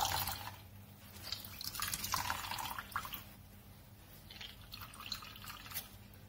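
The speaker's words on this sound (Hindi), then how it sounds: "इस तरह से निचोड़ते निचोड़ते हमें इसमें से सारा पानी निकाल देना है।" Water drips and trickles from fresh chhena (paneer) being squeezed by hand after rinsing in cold water, heard as close, irregular splashy bursts with no talk.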